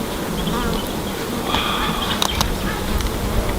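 Honey bees swarm around an open hive at a honey farm in Hatta, Dubai, a dense, steady close-up buzz with individual insects droning past the microphone.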